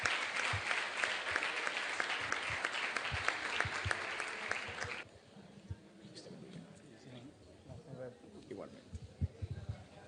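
Applause from a church congregation welcoming Reverend Wardo Castillo, loud and dense for about five seconds, then thinning to scattered claps under a murmur of voices.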